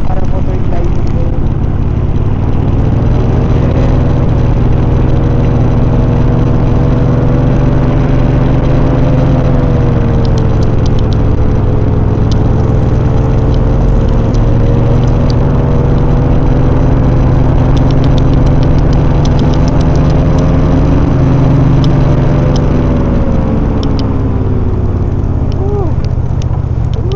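Paramotor engine droning steadily throughout a flight, a loud continuous buzz with slowly rising and falling pitch, close and dominant with wind noise over it.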